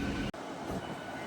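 A MEMU train pulls out from the adjacent platform at Vellore Cantonment, a moderate, steady rumble of the rolling carriages heard from close by, broken by one short dropout.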